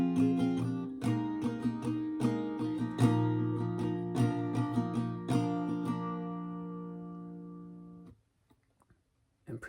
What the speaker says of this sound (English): So that second line of the first pre-chorus would sound like this.